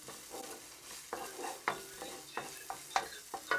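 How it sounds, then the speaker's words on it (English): Aromatics are stir-fried in a hot wok, the spatula scraping and tossing in a series of irregular, moderately loud strokes over a soft background sizzle, with no talking. "As your wok starts to get hot, you'll get that aromatic smell."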